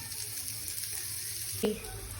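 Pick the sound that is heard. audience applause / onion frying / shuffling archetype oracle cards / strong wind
onion frying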